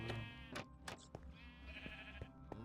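Minecraft sheep of every wool colour bleating in a game-world farm, several short overlapping bleats spread across the stretch, quiet and without talk.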